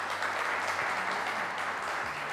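Audience clapping for a woman during a French lucky-draw show, a steady wash of applause with a faint low hum beneath it.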